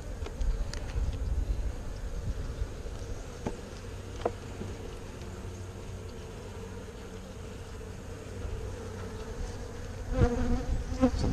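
Honey bees buzzing around a beehive during spring hive work, a dense steady hum of many insects close by, with occasional nearer fly-bys and faint background noise and no talking.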